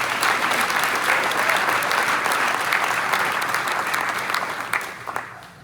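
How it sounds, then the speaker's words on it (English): A crowd at a high school football awards event claps enthusiastically in sustained applause that fades slightly toward the end. "round of applause for those guys who have signed"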